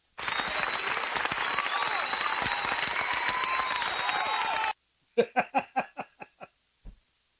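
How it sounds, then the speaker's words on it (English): Dense recorded applause from a crowd plays for several seconds then cuts off abruptly, followed by a handful of sharp, close, separate claps slowing down and fading, heard at home. "Can you hear this clapping?"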